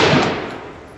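A single loud, close gunshot from a Ruger PC Carbine fired from a bench while zeroing a Vortex Strike Force II red dot, a sharp crack that fades over about a second.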